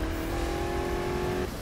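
A Mustang's engine roaring at speed in Need for Speed 2015, a loud sustained steady drone with a held engine tone that drops off near the end.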